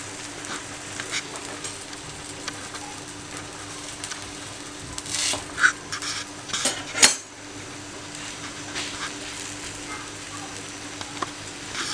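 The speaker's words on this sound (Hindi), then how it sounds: "हल्का हल्का सा आप इसको घुमा लें ताकि ये तवे के साथ चिपके ना" A paratha fries on a hot tava over a medium flame, giving a soft steady sizzle, with metal utensil scrapes and clinks as it is turned. A voice talks quietly over the cooking.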